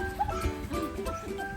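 Dogs barking and yipping at a farm campsite in a few short, mid-distance outbursts, with some whimpering and faint background voices.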